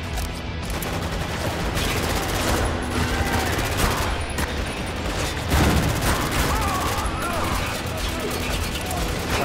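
Dense, continuous gunfire and explosions from the Spec Ops: The Line shooter, loud and chaotic throughout, with overlapping bursts and impacts and faint voices underneath.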